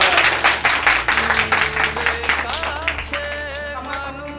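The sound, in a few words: audience applause at a Father's Day gathering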